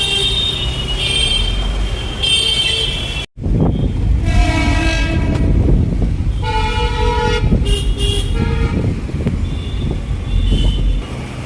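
A Mumbai local train rumbles through a busy station, its horn tooting loudly in several repeated blasts over the steady roar of carriages and crowd noise.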